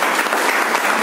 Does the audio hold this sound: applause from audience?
yes